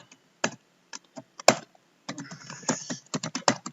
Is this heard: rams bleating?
no